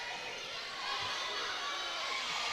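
Volleyball crowd at a charity match roaring steadily after a defensive save, a dense, sustained wash of cheering and shouting that swells slightly partway through, filling the gym without distinct voices standing out.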